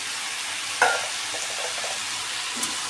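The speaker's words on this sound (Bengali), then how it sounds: "এরপর আমি অ্যাড করব ক্যাপসিকাম আর টমেটো কুচি।" Masala frying in oil with chopped capsicum and tomato added for a paneer curry, giving a faint steady sizzle with one sharp clink of a spoon against the pan and a soft stir near the end.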